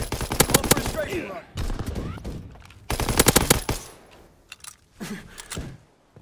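Machine-gun fire from a fighter plane's strafing run in Call of Duty WWII comes in loud rapid bursts, three main volleys separated by short pauses, with scattered impacts and fainter shots trailing off.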